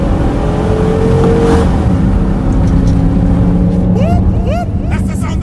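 A police Tahoe patrol engine roars and revs as it accelerates during a night patrol, a loud steady drone with rising tones and brief chirps near the end, while people talk over it.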